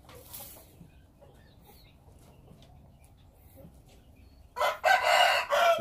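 A rooster crows loudly and close by near the end, a single strained call breaking a quiet outdoor background.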